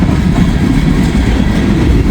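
A long freight train of potash cars, many of them empty, rolls past close by with a steady rumbling roar and faint clickety-clack of wheels on rail, continuous and loud throughout.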